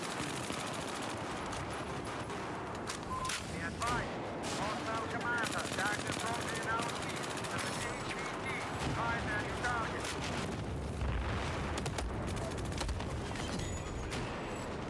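Dense Battlefield 4 gunfight on Operation Locker, with continuous rattling gunfire, bursts and rumbling explosions from rocket launchers filling the whole stretch, loud and layered, with players talking over it at times.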